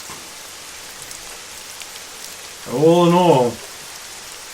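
Steady rain ambience set over a dungeon scene in a fantasy tabletop game, a soft even hiss of falling drops throughout, with a voice speaking briefly near the middle.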